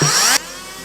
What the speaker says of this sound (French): je vais prendre le Dremel, je vais percer à travers avec le Dremel